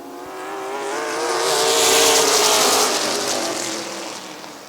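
Race cars at Midvale Speedway accelerate back to green flag racing, a loud roaring pack of engines swelling to a peak midway and then easing slightly as it carries on.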